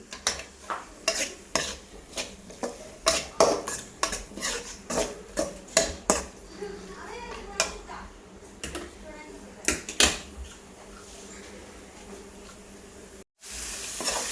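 Mutton curry masala with tomatoes is stirred and fried on high flame: a run of rhythmic spoon-on-pot scrapes and knocks over a soft sizzle, close and steady, thinning out near the end.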